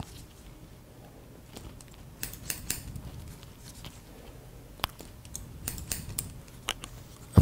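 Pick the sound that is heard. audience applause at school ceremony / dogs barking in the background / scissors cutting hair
scissors cutting hair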